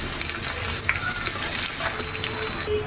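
Onions dropped into hot oil for a prawn and bottle-gourd greens dish, giving a loud, continuous close sizzle and crackle with occasional spits and pops throughout.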